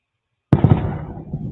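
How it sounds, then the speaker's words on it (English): Fireworks explode very close by: a sudden loud blast after silence, then a quick crackle of pops and a rumbling tail that fades, with no talking. "fireworks somewhere really close by"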